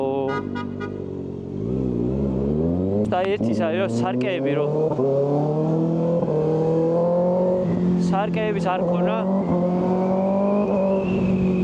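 A Kawasaki ZX6R (636) sport motorcycle engine runs in city traffic, a steady low rumble held under someone talking continuously throughout.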